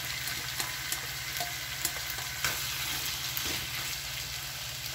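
Tomato sizzles in a frying pan while an omelette is being made, giving a steady, close hiss of frying broken by a few soft scraping stirs.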